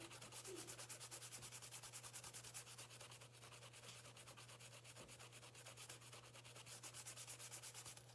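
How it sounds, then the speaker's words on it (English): A toothbrush scrubs white shoes worked with lemon oil in steady, rapid back-and-forth strokes, a close, soft, even rasping that repeats without pause and with no voice. "you're just gonna start rubbing it in all over the white part."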